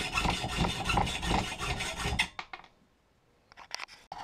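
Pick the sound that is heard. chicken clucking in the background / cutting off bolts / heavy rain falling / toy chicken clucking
cutting off bolts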